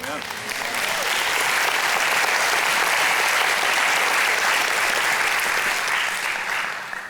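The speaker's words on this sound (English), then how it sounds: "thank you for clapping" Sustained applause from a church audience at a sermon, a broad even wash of many hands clapping steadily, swelling early and tapering at the end, with cheering voices mixed in.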